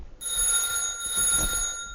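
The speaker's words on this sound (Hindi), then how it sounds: "इसी बीच फोन जोर से बजता है।" A cartoon telephone rings loudly in a rapid, continuous bell trill that sustains for most of the two seconds, alone without any voices.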